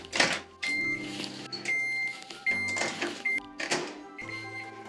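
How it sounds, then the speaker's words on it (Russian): A microwave oven running while it melts butter, a steady low hum with beeps and clunks from the door and controls, all close by with no talk. "Я делаю это в микроволновке."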